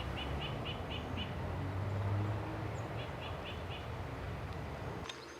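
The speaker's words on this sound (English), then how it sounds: "there's an eastern phoebe right next to it" A small bird gives two quick series of short, repeated chirps over a steady low background hum.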